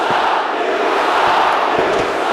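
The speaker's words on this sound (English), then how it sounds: "you can hear this crowd giving Zama a goal" A roaring stadium crowd during a video game football match, loud and continuous cheering that fills the whole stretch without a break.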